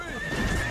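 Cartoon horse whinnying with clip-clop hooves, a short loud burst of neighing over galloping steps, no talk.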